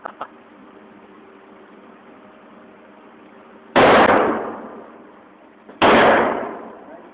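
Two loud pistol shots fired at a bull's-eye target, about two seconds apart, each a sharp crack with a long ringing decay over a steady low hum.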